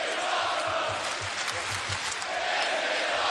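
An arena wrestling crowd cheers and applauds, a dense, loud roar of clapping and shouting that runs throughout the clip.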